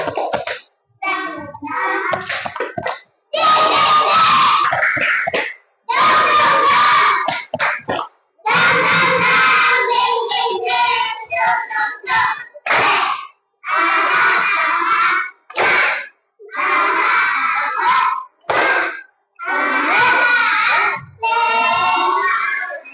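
Students in a classroom perform a spirit clap, bursts of rhythmic group clapping broken by short pauses, with children chanting and shouting along in patterned sections.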